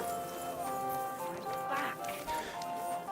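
Horse hooves clop softly as a rider dismounts in Kingdom Come Deliverance II, a few faint steps set beneath steady background music.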